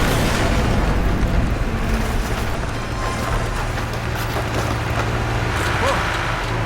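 A wall in the Portal 2 video game is forced open by manual override: a loud, continuous rumbling and grinding of heavy machinery with low booming, steady throughout.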